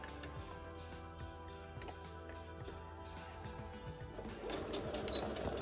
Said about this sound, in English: now we are going to use a straight stitch, just a straight line stitch, and sew the two edges that we pressed down.